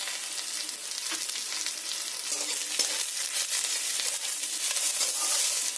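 Onions and chopped tomatoes fry in a pan for an egg curry, giving a steady, close sizzle with soft crackles and occasional stirring scrapes, no voices.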